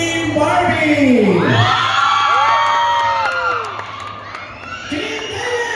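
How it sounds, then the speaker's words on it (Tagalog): A loud crowd at a Kapuso fans day event cheers and shouts, with children's high whoops and yells rising and falling over several seconds, close and energetic. "palakpakan sigawan for Team Barbie!"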